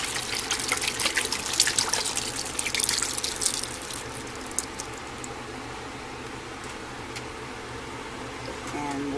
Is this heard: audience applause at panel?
no